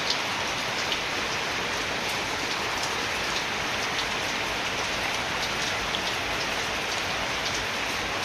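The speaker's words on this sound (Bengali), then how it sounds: "তো এই বৃষ্টি যে শুরু হয়েছে সকালের থেকে" Steady rain falling and pattering on surfaces, a constant hiss dotted with small drip impacts, moderately quiet and unbroken, with no talking.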